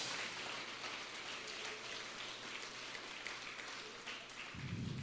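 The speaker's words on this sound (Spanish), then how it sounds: "denle un aplauso al Señor" A church congregation applauds, a steady wash of many hands clapping that sounds like rain, fairly faint and continuous, with a low rumble entering near the end.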